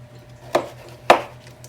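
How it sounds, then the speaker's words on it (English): Two crisp knife chops through zucchini on a cutting board, spaced about half a second apart, close and distinct against a low steady hum. "So I'm just gonna try to chop it as fine as I can"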